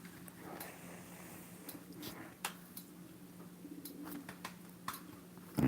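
Pigeons in a coop, including baby pigeons, coo softly and steadily with occasional ticks and clicks, faint and close-by over a low hum.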